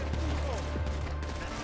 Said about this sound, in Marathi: अरे शूटिंग चालू झाली